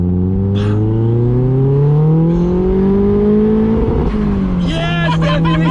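A turbocharged Mazda Miata accelerates hard from inside the car, engine pitch climbing steadily toward the rev limiter before a brief shift dip, with people talking and exclaiming excitedly over the engine.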